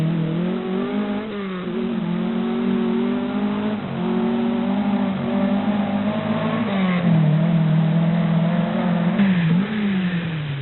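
Rally car from the 1983 NSW rally championship driving carefully through a boggy forest stretch, its engine droning steadily with rising and falling revs, close and loud throughout with no voices.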